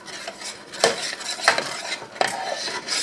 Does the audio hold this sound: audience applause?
no